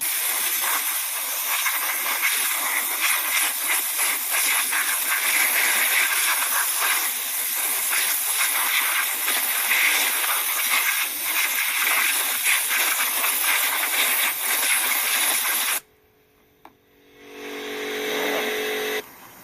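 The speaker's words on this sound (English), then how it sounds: "we'll blow it off with some compressed air" A compressed air gun blows off a wire-brushed cast iron part in a loud, harsh, continuous hiss that lasts about sixteen seconds, stops abruptly, then returns more faintly in a short burst.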